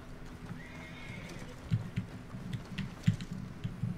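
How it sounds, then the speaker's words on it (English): A horse in the Red Dead Online video game whinnies once early on, and its hooves clip-clop steadily as it comes closer. Both sounds are fairly faint. "let's call our horse over."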